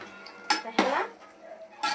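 A spoon knocks and scrapes against a pot as cooked rice is stirred, three sharp metallic clatters with soft rustling between them, close and clear, no speech.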